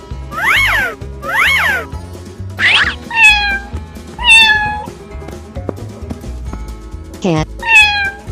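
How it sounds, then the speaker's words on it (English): Several clear cat meows, some long and wavering, come one after another between other animal calls and a cartoonish musical backing, all close and loud. "Cat."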